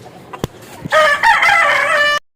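A few faint clicks come first, then a rooster crows loudly and close by in one long, drawn-out call.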